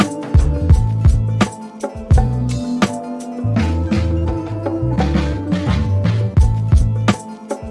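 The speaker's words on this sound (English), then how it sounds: "I put like a drum break in there from the Slap Experts, the Tomfoolery drum loop pack" A boom bap beat built in FL Studio with a drum break from a drum loop pack added on the turnaround: punchy kicks, crisp snares and a deep bassline in a loud, steady groove.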